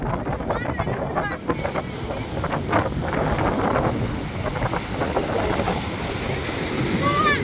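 A big sea wave rolls in and crashes onto the shore near an old sunken port town, a broad roaring wash over heavy wind buffeting the microphone, with voices shouting in alarm over it.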